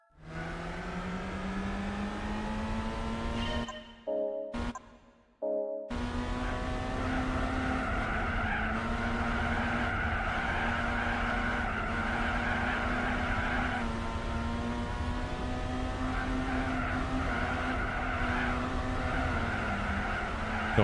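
Tyres squealing on a Golf GTI in Gran Turismo 4, heading through a tunnel toward a hairpin: a sustained engine drone with steady whining tones runs loud almost throughout, briefly cutting out near the start, with no talking.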